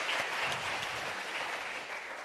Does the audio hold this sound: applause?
yes